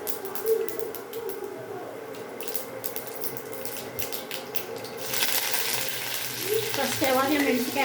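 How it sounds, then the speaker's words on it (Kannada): Spices for an avarekalu (field bean) curry hit hot oil and begin a soft sizzle, which swells into a louder, crackling fry in the last few seconds after a quieter start. "ಇವಾಗ ಎಣ್ಣೆ ಕಾದಿದೆ ಪಲ್ಯಕ್ಕೆ ಒಗ್ಗರಣೆ ಹಾಕ್ತೀನಿ ಅವರೆಕಾಳು ಪಲ್ಯಕ್ಕೆ"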